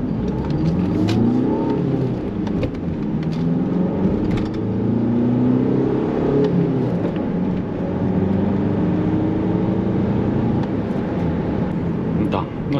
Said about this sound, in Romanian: Se aude un zbârnit de pe la motor.